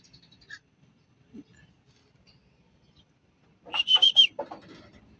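A racing pigeon returns to its loft after a race from Bongabong, Mindoro: near-silence with a few faint taps, then a short, close burst of fluttering and chirpy bird sounds near the end.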